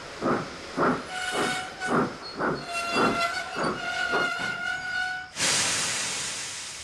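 A steam locomotive pulls into its shed, steady rhythmic chuffs building under a sustained two-tone whistle, then a loud, long release of hissing steam as it stops.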